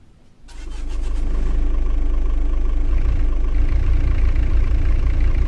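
In Euro Truck Simulator 2, a Volkswagen Crafter 2.5 TDI van engine cranks briefly, then catches and settles into a steady, loud idle with a low rumbling throb, heard alone with no talking.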